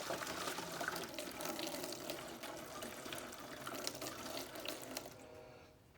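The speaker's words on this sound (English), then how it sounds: "More water in the bottle." Water pours steadily into a bottle in a workshop setting, a loud continuous splashing gush lasting several seconds before tapering off at the end, with no one speaking.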